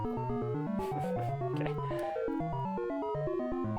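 A SuperCollider synth def plays a fast sequence of synthesized tones, moderately quiet and shifting in pitch, with brief noisy bursts in the middle and one short spoken word.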